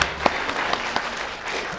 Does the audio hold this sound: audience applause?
yes